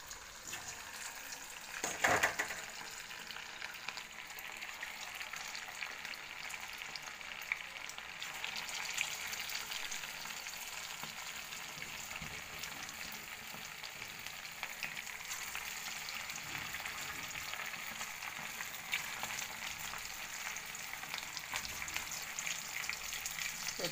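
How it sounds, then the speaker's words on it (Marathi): Marinated chicken 65 deep-frying in hot oil gives a soft, steady sizzle throughout, with a brief clatter near the start. "आता मी हे तळून घेते."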